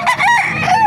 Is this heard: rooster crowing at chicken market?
yes